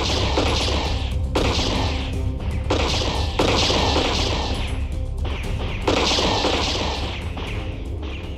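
Sustained, loud rapid gunfire in a staged police shootout from a puppet show about Chandrashekhar Azad, with dense volleys of overlapping shots and crashes continuing without pause.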